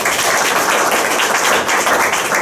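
A lecture audience applauds steadily, a dense, even wash of clapping that holds at full strength for the whole stretch with no voices on top.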